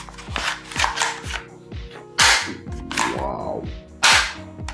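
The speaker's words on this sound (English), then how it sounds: "That's really very interesting and impressive fully shotgun." A toy shotgun lets off a few sharp, loud cap-gun cracks, sometimes in quick pairs and sometimes with a gap, amid quieter clicking and handling noises of the toy.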